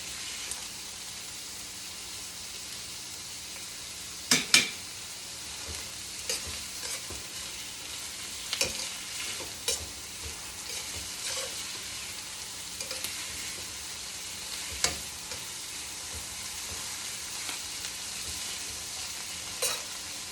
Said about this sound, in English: Turn up the flame. Because this is basically a stir fry.